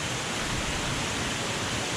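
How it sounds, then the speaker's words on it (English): Steady, dense roar of a waterfall reached along a humid hiking trail on Roatan, a continuous broadband rush that stays loud and even throughout with no voices over it. "Waterfall. We made it."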